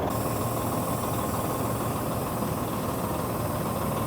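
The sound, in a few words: semi truck fifth wheel sliding forward, engine idling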